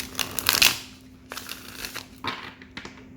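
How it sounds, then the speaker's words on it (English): A deck of tarot cards is shuffled by hand, a crisp riffling burst first, then softer intermittent flicks and rustles, close and moderately loud against quiet background hum. "I feel like I want another good shuffle, one more good shuffle, and we'll get into these tarot cards"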